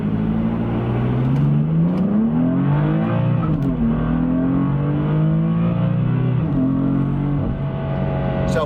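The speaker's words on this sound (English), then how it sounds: "And now we can accelerate right onto the highway here." A BMW F80 M3 accelerates hard onto a highway, its engine note climbing loud and steady, dipping briefly at a gear change, then rising again.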